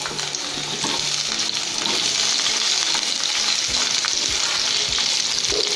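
Three onions sautéing in a pan for Tamil-style tomato chutney give a steady, loud, close sizzle that hisses continuously throughout, with a few soft low bumps from the pan.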